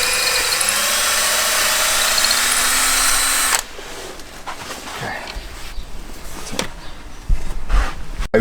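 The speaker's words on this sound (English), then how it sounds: "So we're going to drill it to the tapping size of an M6" A mag drill bores a tapping-size hole for an M6 thread during a sensor repair on a Ford Fiesta EcoBoost, whining steadily for a few seconds before stopping abruptly, followed by quieter clatter and handling noises.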